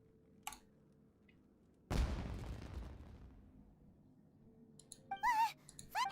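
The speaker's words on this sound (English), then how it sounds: "Was that an explosion? It sounded like fireworks." A single firework blast in the Genshin Impact video game bursts loudly, then a crackling, fizzing tail slowly fades over a few seconds. Faint game effects and a brief chime follow.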